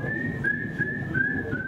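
Someone whistles after eating dry saltine crackers in a cracker whistle contest at a beach event, producing a thin, steady high-pitched tone held in several breathy stretches over a busy crowd murmur.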